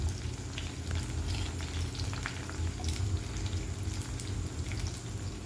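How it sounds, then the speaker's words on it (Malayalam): Small onions and curry leaves sautéing in a pan for a pomfret curry, a steady close sizzle and crackle of frying oil with faint stirring, no talking. "അത് അരിഞ്ഞ് നല്ല ബ്രൗൺ നിറമാവുന്നത് വരെ അതൊന്ന് വഴറ്റി എടുക്കുക"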